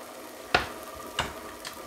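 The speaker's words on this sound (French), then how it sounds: "On continue à remuer pour ne pas brûler la tomate concentrée" Tomato paste frying in a pan with paprika being stirred in; soft spoon scrapes land twice, each followed by a quiet sizzle over a low, steady background.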